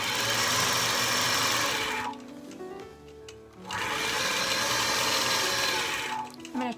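A sewing machine doing ruler-work quilting, stitching in the ditch: a steady motor whir that runs, pauses briefly in the middle, then resumes before stopping near the end.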